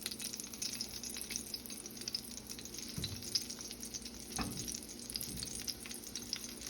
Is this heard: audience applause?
no